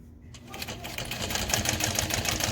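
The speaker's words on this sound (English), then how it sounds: "So we're gonna put our needle down and go to a 5 and stitch this in." A sewing machine topstitching a Phoebe backpack starts up and runs steadily, a close, even rattling whir of needle strokes with a slight rhythmic pulse.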